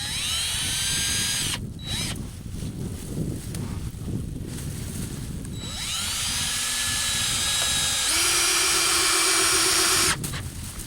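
A power drill drives a screw into a plastic bucket for a duck house stand, whining in long bursts that rise in pitch, loud and close, with brief pauses between pulls of the trigger.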